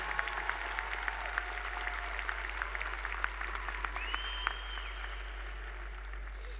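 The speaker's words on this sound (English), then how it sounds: "We need to give a round of applause to the family, to the parents, to the friends, and to those special professors that got you to where you are today." Applause from a university commencement ceremony audience in Memphis, steady and distant-sounding, with sparse individual claps standing out over a continuous low hum.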